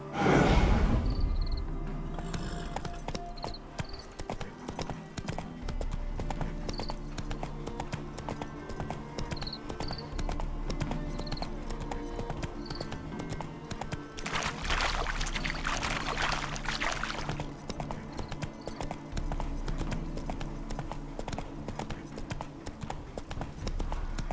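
A horse's hooves clip-clop in a steady, continuous trot in The Witcher 3 video game, with a brief swell of rushing wind or water midway and no talking.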